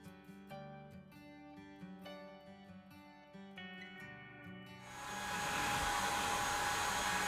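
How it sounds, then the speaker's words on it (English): A neighbor's hedge cutter running just outside a window. A tonal passage gives way to a loud, steady motorized buzz and whir that starts about two-thirds of the way through and continues to the end. "my neighbor's cutting his hedge right outside my window"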